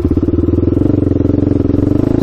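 Honda 400ex ATV engine running close and loud with a steady rapid thumping pulse, its tone rising slightly while riding with a wobbling wheel.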